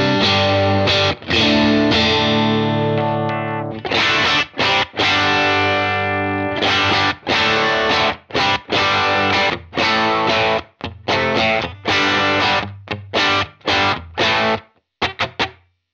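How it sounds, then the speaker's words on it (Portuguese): An electric guitar runs through a Universal Audio Enigmatic pedal with its drive at maximum, giving loud, thick overdriven chords and notes that ring and cut off repeatedly, with reverb tails and no talking. "Se você botar ele no máximo, vem um drive muito legal."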